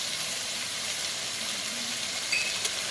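Vegetables for a vegetable biryani sauté in a pan, a steady, moderately loud sizzle and hiss that continues throughout with no talking.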